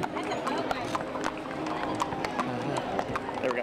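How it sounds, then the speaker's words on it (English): Horses of a mounted posse walk along a Veterans Day parade route, their hooves clip-clopping in an irregular rhythm amid crowd noise and talk. "Those are some beautiful horses."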